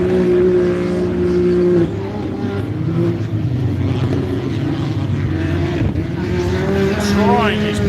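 A Can-Am Maverick off-road racer runs loud and close at a 4x4 adventure park, its engine droning steadily and changing pitch as it races toward the finish line, with a commentator talking over it.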